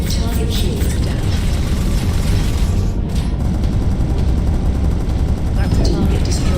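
Starfield space combat as a target ship is destroyed: a loud, continuous wash of booming blasts and rumbling fire fills the whole stretch, with a brief dip partway through before the roar resumes.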